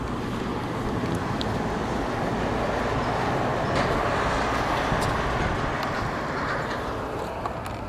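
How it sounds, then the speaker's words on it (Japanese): Wind blowing outdoors at night near a tunnel, a steady loud broadband roar that fills the whole stretch without letting up, with no talk. "風の音なんだよ、風の音。"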